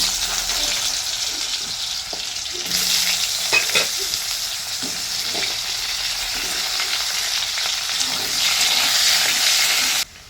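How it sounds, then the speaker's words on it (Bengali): Potatoes and onions frying together in a pan: a close, continuous sizzle broken by repeated scraping and stirring knocks, swelling louder toward the end before cutting off. "আলু আর পেঁয়াজ একসাথেই ভাজবো"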